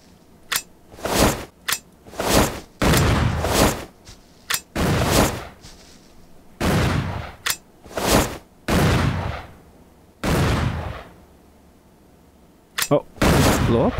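Gunfire and grenade blasts from a first-person shooter video game: a series of loud, sharp bursts and booms, some clustered and some spaced by brief pauses, with no speech over them.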